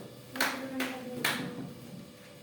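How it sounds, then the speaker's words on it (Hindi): A few sharp hand claps ring out in a classroom prize distribution for a student who topped a test. There are three distinct bursts spaced under half a second apart, then quiet room tone with faint voices. "ताली हो जाओ"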